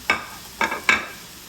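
Vegetables sizzling in a hot pan as they are stirred, three short bursts of scraping and hiss close up with a quiet fry between them.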